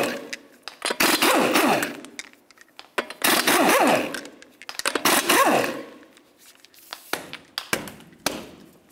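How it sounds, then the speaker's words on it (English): Lug nuts, all five of them 21 mm, being worked off a Toyota Camry wheel, heard as repeated close metallic clicks, taps and clunks in several loud bursts with short pauses between them. "remove all five of your 21 millimeter lug nuts"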